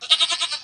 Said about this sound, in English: Oh, I can turn into a goat.